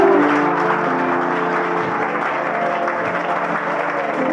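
Congregation applauding together during a church service, a dense steady clapping that fills the room throughout, with some tonal music or voices blended underneath.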